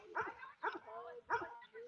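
An American Staffordshire terrier pit bull gives three short, close, whiny barks in an uneven rhythm, with a fainter fourth yelp at the end.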